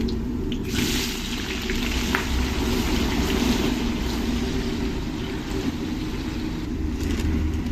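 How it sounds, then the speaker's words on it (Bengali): Chopped onions and whole spices fry in hot oil with a steady, continuous sizzle and hiss, close and fairly loud, with no talking. "যতক্ষণ ভালো গন্ধটা না বেরোবে ততক্ষণ আমি গোটা মশলাটাকে ভেজে নেবো এবার দিয়ে দেবো পেঁয়াজ কুচি"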